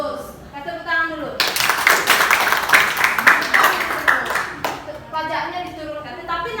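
A class applauding, a burst of dense clapping lasting about three seconds, close and loud, with a voice talking before and after it.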